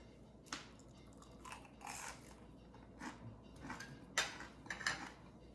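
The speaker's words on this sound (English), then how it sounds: "Sounds very crunchy." Someone chews a piece of coconut shrimp dipped in sauce, a few faint, close, crunchy bites scattered over a quiet background with no talking.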